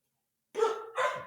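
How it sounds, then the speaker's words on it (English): Several dogs bark in two short bursts after a brief silence, loud and close with no talk over them. "My dogs are going insane"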